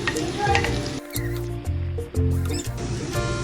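Sliced capsicum and grated carrot sizzle as they are added to a hot pan for cheesy spaghetti, a loud crackling fry broken by short pauses and stirring scrapes, with a steady tone running underneath.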